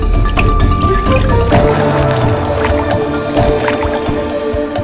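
A Jesus lizard running across a water surface: loud, close splashing and dripping with rapid patters and bubbling water throughout.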